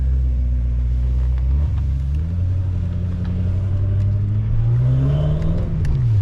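A tuned 700 whp BMW M6 with a twin-turbo V8 drones loud and steady from inside the cabin, its low engine pitch rising and falling through gear changes with a muted, muffled character.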